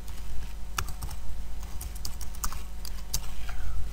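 Keys on a computer keyboard are typed in irregular bursts of close, crisp clicks over a low background hum, with no talking.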